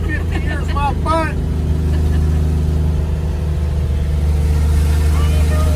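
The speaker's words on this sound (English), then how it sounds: "It sounds like a Mack truck." A loud, deep engine of an old Ford F100 truck, abandoned in a junkyard for 50 years, rumbles steadily throughout, with brief voice-like tones near the start riding over the low drone.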